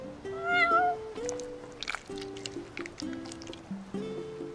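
A cat meows in the Final Fantasy XV video game, a few short meows near the start over in-game background music, with soft squishy eating sounds following.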